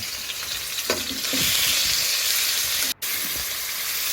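Pork and sliced leaves fry in a pan with red curry chili paste, a loud, close, steady sizzle and hiss with a few stirring scrapes and a brief drop out near the end.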